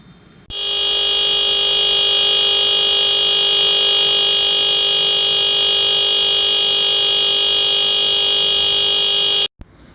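A 555 timer circuit on a 9-volt DC supply produces a harsh, steady electronic buzz that switches on abruptly, holds at a constant pitch for about nine seconds, then cuts off sharply.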